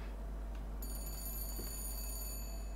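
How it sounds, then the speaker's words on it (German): Telephone ringing in the video game Bioshock Infinite: a steady electronic bell tone enters partway through and holds over low background game ambience, with no speech. "da ist das Telefon"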